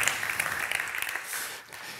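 University lecture-hall audience applauding at a monologue, a dense wash of clapping that thins and fades over a couple of seconds.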